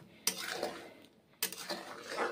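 Fish curry being stirred and fried in a pan with salt, turmeric and spiced water, two sharp clanks of a utensil against the pan followed by soft scraping and faint sizzling, close by.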